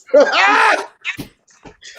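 A single sudden sneeze bursts out loudly and close, followed by short quiet bits of speech from a broadcaster.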